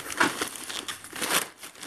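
Scissors cutting open the packaging of a parcel from China holding a portable grill, close crinkling and crackling of plastic wrap in quick irregular bursts.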